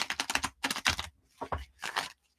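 A deck of playing cards being shuffled at close range: several quick, crisp bursts of riffling and flicking, separated by short pauses, with no voices.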